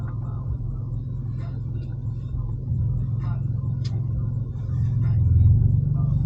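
A BMW G82 M4 Competition drives through suburban streets, its low engine and road rumble steady and close from inside the cabin, building slightly louder toward the end.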